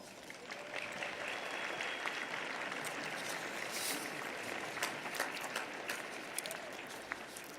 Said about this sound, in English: give them your rousing applause